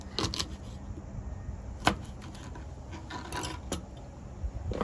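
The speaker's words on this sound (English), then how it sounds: "I'm just going to cut off the tough ends of the asparagus" A knife trims the tough ends off asparagus on a cutting board, making several sharp close chops and scraping sounds at an uneven pace, with no voices.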